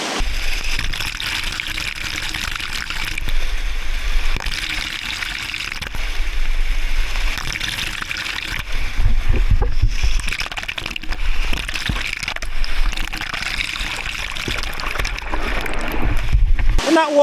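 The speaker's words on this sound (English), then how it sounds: "So this bit of white water here is the most aggressive." Rushing white water churns and splashes around a waterproof camera case for a DJI Osmo Action 6, a loud, steady turbulent roar close to the microphone with surging swells throughout.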